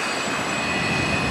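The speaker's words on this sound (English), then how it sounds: "the noise we're hearing in the background is from the train passing by just outside" Train passing just outside Dealey Plaza in Dallas, heard as a steady broadband rumble with a faint high whine, moderately loud and unbroken, no talk.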